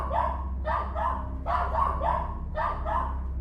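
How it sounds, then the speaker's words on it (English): An agitated dog barks in repeated sharp, close bursts, in pairs of loud yaps with short gaps, over a steady low hum. "the 3rd grew agitated and began barking at something odd"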